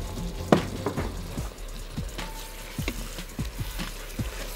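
Vegetables sizzle in olive oil in a pot for soup, with a steady fry hiss under repeated scraping stirs of a spoon, close and moderate in level, no talk.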